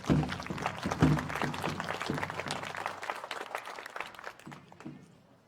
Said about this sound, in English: Let's give them a round of applause for this today.